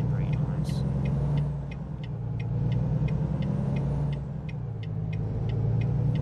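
A Volvo truck in American Truck Simulator drives along with a steady low engine drone, while faint regular ticking, like a turn signal, runs over it throughout at moderate volume.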